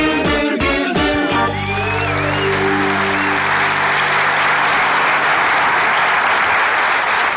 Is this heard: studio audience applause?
yes